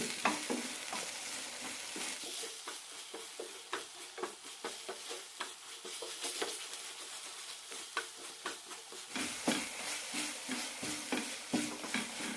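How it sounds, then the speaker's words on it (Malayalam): Masala with spice powders and salt is sautéed in a pan for a tomato curry, a steady sizzle broken by rhythmic scraping strokes of a spoon, close and alone without speech. "പൊടികളിട്ട ശേഷം നന്നായി വഴറ്റണം"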